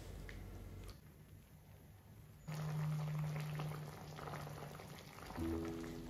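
Cauliflower kadhi with a yogurt mixture simmers toward a boil in a pot, giving soft bubbling and crackling over a low steady hum, with a brief louder stretch and faint tonal kitchen noise.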